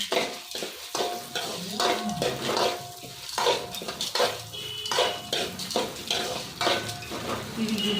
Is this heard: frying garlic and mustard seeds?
yes